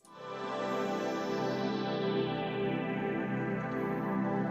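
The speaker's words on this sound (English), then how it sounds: "I first kind of played with this synth sound, which sounds like this." Synthesizer pad in the style of the PS1 startup intro, a rich sustained tone swelling in quickly and holding steady for several seconds, bright overtones slowly darkening, alone with no voice.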